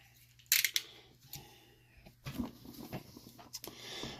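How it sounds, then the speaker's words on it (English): Scissors snipping through packing tape on a cardboard box holding a diecast van, a few sharp close cuts and crinkles followed by quieter rustling and scraping, with no voices. "let's cut off the some of the tape here, so we can open it up easy"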